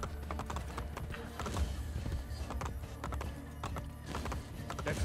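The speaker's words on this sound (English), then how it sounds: "My horse. Come back." A horse gallops up in the video game Assassin's Creed Brotherhood. Its quick, quiet hoofbeats thud steadily against the game's background ambience.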